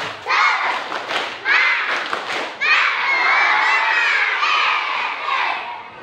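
Elementary schoolchildren at a school religious event do a spirited clapping cheer: rhythmic group claps and thumps followed by a loud, sustained chorus of young voices shouting together.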